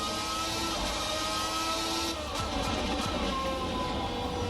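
A Formula 1990 V12 race car in Assetto Corsa howls at high revs, a steady, loud, sustained engine whine with slight pitch shifts throughout.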